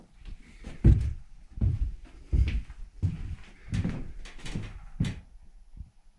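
A cabin door is worked open and shut several times, with dull wooden thumps and creaks repeating close by at an uneven rhythm.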